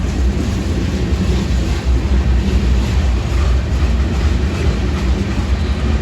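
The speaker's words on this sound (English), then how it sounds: "interesting thing about this train is all these short covered hoppers. And they were loaded" A loaded freight train of short covered hoppers with compressed springs rolls past steadily in eastern Missouri, a loud, continuous rumbling roar with rail noise and no talking.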